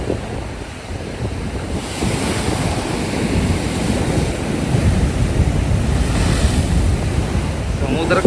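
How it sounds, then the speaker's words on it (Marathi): Rough, heavy sea waves surge and crash at the Bamanghal natural water spout on a rocky coast. The roar is continuous and close, with strong wind buffeting throughout. "समुद्राचं पाणी प्रचंड प्रमाणात कवळलेलं आहे बघा ते बघा"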